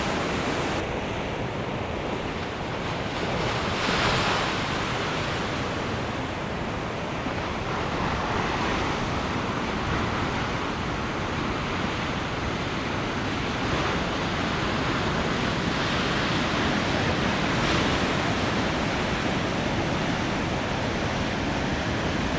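Ocean waves roll and break on a surf beach in Brisbane, a steady, enveloping roar of surf with wind buffeting the microphone throughout.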